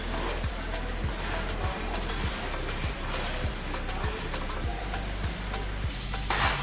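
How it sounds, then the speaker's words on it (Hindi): Kalakand mixture cooks in a pan with cardamom powder added, giving a steady soft sizzle and hiss. A spoon scrapes the pan in regular strokes about every half second. "अभी हम इसमें ये इलायची पाउडर डाल देंगे और अभी हम 4 से 5 मिनट इसको पकाएंगे"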